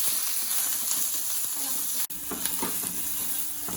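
Crushed onion sizzles and fries in a clay pot for a Kerala prawn roast, with a steady close hiss and occasional stirring scrapes throughout, briefly interrupted by a single sharp knock midway.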